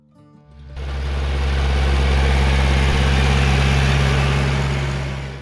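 A John Deere 3020 tractor engine turns over and catches, then settles into a loud, steady low diesel rumble close by, holding strong throughout with no talk.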